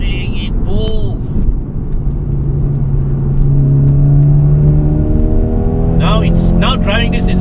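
A 2020 Mercedes-AMG A 35 4Matic accelerates hard while passing, its engine note rising steadily and loud from inside the cabin, with someone talking over it.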